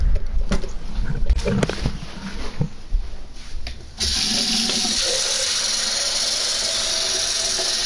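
Water running from a kitchen or bathroom tap, with a few seconds of clattering handling noises before a steady, fairly loud, continuous rush of flowing water sets in and carries on alone.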